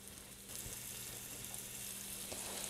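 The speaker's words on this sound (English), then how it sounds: "The oil is hot, so I'm gonna start adding the beef." Flour-coated beef chunks sizzle in hot oil in a stovetop pot, a faint, steady crackling hiss that swells slightly as more pieces go in.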